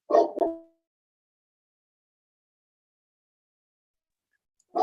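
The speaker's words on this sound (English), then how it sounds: "yes, we are hearing your dog" A dog barks in the background of an online astronomy conference call: two sharp barks close together at the start, long silence, then another bark at the very end.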